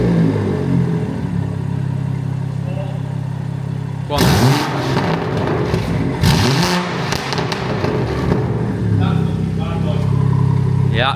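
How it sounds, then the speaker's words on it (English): A BMW M140i with its rear back box removed idles, then revs hard in sport mode with loud, close bursts and crackles before settling back to a burbling idle, while people talk briefly. "let's see what this M140 sounds like with no back box on it at all"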